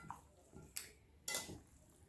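Pasta tossed with tuna, tomato and parsley in a pan: a few quiet scrapes and clinks of a utensil against the pan, two sharper strokes standing out, faint and close with no voices.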